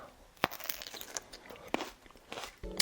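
Someone bites into a whole kiwi with the skin still on, giving a few close, crisp crunches followed by softer wet chewing.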